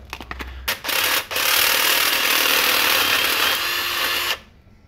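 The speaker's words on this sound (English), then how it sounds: "Here I bought a Milwaukee step drill." A power drill with a Milwaukee step drill bit whirs up after a few clicks, briefly stops, then grinds steadily through metal for about three seconds before winding down.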